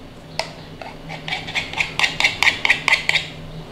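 Back of a knife tapping and scraping along a pie dish rim while trimming the pastry overhang on a beef mince and onion pie, a quick run of about a dozen close, bright metallic clicks growing steadily louder.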